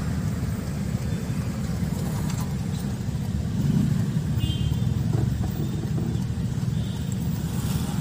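A car pulling away in first gear on a city road: a steady, muffled engine hum heard from inside the cabin, holding even throughout with no voices.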